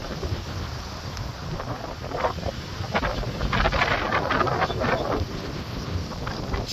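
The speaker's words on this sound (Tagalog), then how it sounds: "Masyadong mahangin dito." Strong wind gusts buffet the microphone at Puka Beach on Boracay Island, a white-sand shore strewn with coral bits, as a steady roar swells and eases without a break.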